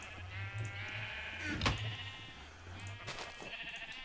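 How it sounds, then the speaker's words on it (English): A soft, distant sheep bleat from a video game drifts over a low hum and quiet background noise, followed by a brief click. "I'm going to go shear some sheep."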